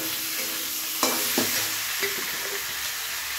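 Chopped tomato frying in a pan for a jackfruit and prawn dish, a constant loud sizzle with a few sharp scraping stirs of a spatula standing out over the hiss.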